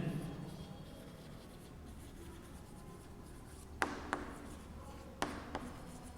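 A pen writes maths on paper, giving a soft, steady scratching close to the microphone. A few sharp taps of the pen on the page come near the end, over faint room noise.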